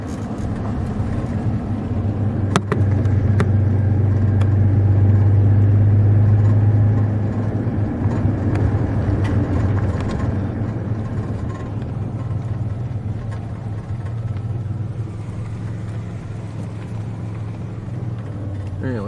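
A car with a manual transmission drives through the Onawa, Iowa dragstrip racing complex, its engine and road rumble droning steadily with a loud low hum early on, wind buffeting the microphone and a sharp knock near the start.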